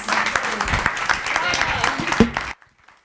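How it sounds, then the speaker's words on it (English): Audience applause at a poetry reading event, a dense burst of clapping that fills the room for about two and a half seconds and then cuts off abruptly into near silence. "Join me in giving a round of applause"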